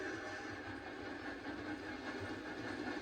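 A video game train rolls by with a low rumble and a soft hissing wash, fairly faint and steady over a few seconds.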